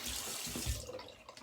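Tap water runs steadily into a sink for a cold water rinse after shaving, with a close, continuous splashing rush and no talk.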